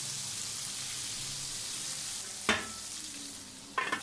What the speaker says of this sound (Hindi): इसी तरह से हम बाकी के टेंडर पॉप्स भी फ्राई कर लेंगे।